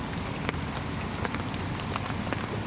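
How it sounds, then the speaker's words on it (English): Heavy rain lashes down steadily on a carp fishing spot under trees, a dense continuous patter with scattered sharper drops, no voices. "It's lashing down of rain."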